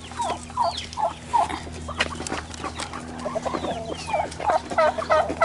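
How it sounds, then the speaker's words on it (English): Turkeys and other fowl on an Arizona ranch, a busy run of short clucks and gobbling calls repeating close by over a steady low hum, with no talking. "Mr. Gobbles Jr. is the offspring of my favorite turkey"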